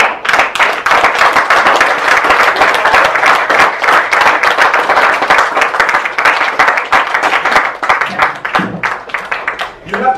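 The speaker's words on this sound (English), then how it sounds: "I need you to start clapping right now" A high school audience claps steadily and loudly throughout, dense rhythmic clapping filling the space, with a speaker's voice briefly heard over it near the end.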